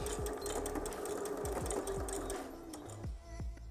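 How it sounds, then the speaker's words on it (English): A sewing machine stitching a seam in fabric, its rapid rhythmic needle thumps running steadily close by, then slowing into a few separate stitches near the end, with no voices. "you're gonna sew to the edge of the fabric, and then you're going to hit your backstitch button"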